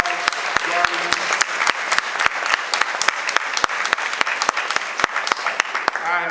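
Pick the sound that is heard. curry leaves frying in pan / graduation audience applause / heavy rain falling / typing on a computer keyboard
graduation audience applause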